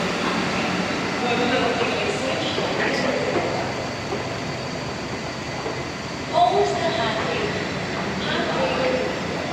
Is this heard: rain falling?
no